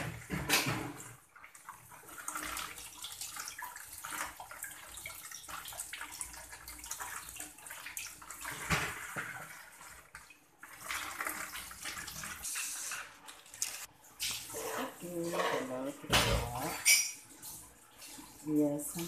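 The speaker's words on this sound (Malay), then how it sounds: "kita cuci telur ayam dulu." Water splashing and running in a basin as chicken eggs are washed, with intermittent sloshing and handling noises, fairly quiet and close, with occasional soft voices nearby.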